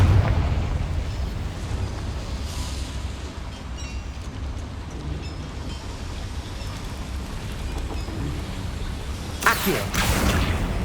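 A Confringo fire spell explodes in the Hogwarts Legacy video game inside a small mine, a deep rumbling blast with low crackling debris that lingers, followed by a sharper burst near the end.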